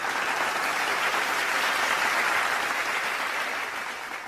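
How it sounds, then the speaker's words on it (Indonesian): A crowd at a Bank Indonesia annual meeting in NTT claps steadily in sustained, dense applause that tapers off slightly toward the end. "Tepuk tangan buat Bank NTT."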